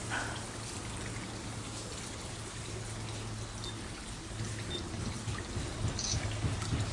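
Water trickling and dripping at a Japanese temple purification basin in a garden, a soft, steady, quiet patter with small splashes, over a low background hum.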